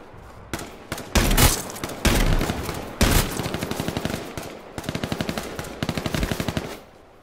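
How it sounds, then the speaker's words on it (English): Rapid automatic gunfire from the battle royale video game H1Z1, loud bursts of repeated shots and sharp single cracks spread across the whole stretch, with short gaps between volleys and no talk over it. "Why are you shooting me?"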